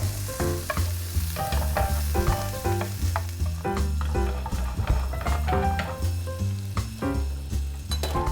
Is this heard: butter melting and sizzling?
yes